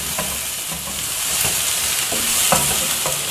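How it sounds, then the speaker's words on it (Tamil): Tomatoes sizzling and frying in a hot pan for sambar, with occasional scraping stirs of a spoon, steady and close. "தக்காளியும் கொஞ்சம் நேரம் நம்ம இப்போ வதக்கணும்."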